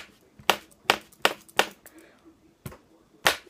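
Pen tapping in a tap-then-continuous-clap pattern: a series of crisp, close pen clacks on a surface, mostly evenly spaced, with a short pause before the final strikes and faint light taps between them.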